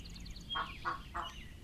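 Three short quacking calls from a duck in the Elsewhere video game, evenly spaced about a third of a second apart, fairly close over a faint ambient background.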